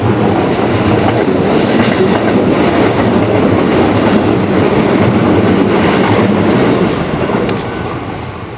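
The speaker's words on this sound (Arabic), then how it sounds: "انه قطار قاتم كن حذرا يا مهدي" A train passes close by at night, a loud continuous roar of wheels and clickety-clack on rails that fades slightly at the end, with no voices.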